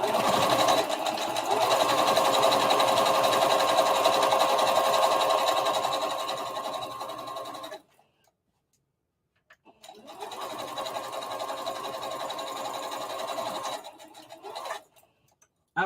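A sewing machine topstitches a circle dress in two long loud runs of rapid, even mechanical whirring, separated by a silent pause and ending with a brief final burst.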